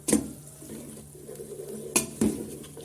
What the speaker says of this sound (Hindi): अब ये हम टमाटरों के साथ इसका मसाले को अच्छी तरह भून लेंगे।